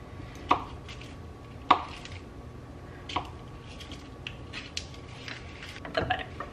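A knife cuts up food on a board for a dessert with a few sharp, spaced chops and a faint rhythmic clatter in between, close and clear in a quiet kitchen.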